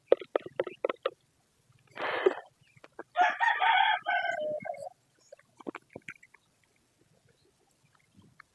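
A rooster crows loudly twice, with short clucks from chickens before, between and after, close by in a quiet setting at feeding time.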